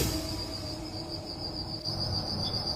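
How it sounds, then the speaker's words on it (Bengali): Crickets chirping at night in a steady, unbroken high-pitched drone, fairly loud and close, holding an even level throughout with no talking over it. "চারিদিকে তখন থমথমে নীরবতা, শুধু ঝিঁঝি পোকার একটানা ডাক।"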